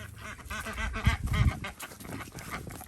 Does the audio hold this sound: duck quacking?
yes